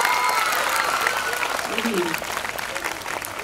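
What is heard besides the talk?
audience applause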